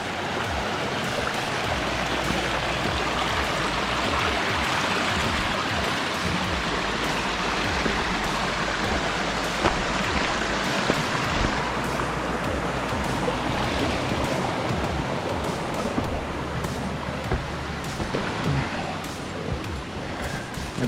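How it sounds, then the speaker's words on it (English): Steady rushing water of a mountain stream crossing on Mount Tecumseh, New Hampshire, flows continuously close by, a broad, even roar with no pauses. "I love listening to the sound of the running water when you're out in the middle of nowhere."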